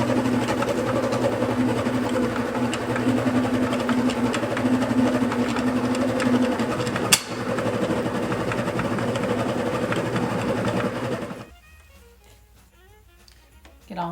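A stand mixer runs on low, folding almonds and cranberries into shortbread cookie dough, giving a steady motor hum for about eleven seconds before stopping, with a brief click midway.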